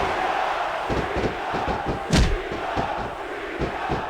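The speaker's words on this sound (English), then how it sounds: "I can't remember the last time I seen a crowd so pumped up." Continuous arena crowd noise from the wrestling game SmackDown vs Raw 2006 holds steady throughout, punctuated by a string of thumps and one louder slam near the middle.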